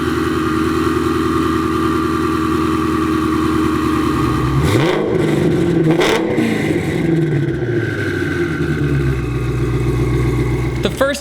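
A 1300 horsepower twin turbo Shelby GT350 idles with a lumpy, pulsing rhythm, then blips its throttle with short revving bursts around the middle before settling back, up close and loud, with speech partly over it.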